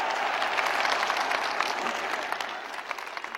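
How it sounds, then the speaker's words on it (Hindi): Audience applause welcoming the guru at a spiritual gathering, a dense steady wash of clapping from a large crowd that holds strong throughout and eases slightly toward the end. "आइए हम सब लोग मिलकर आनंद से, प्रेम से, हृदय से गुरु महाराज जी का करतल ध्वनि से स्वागत करते हैं"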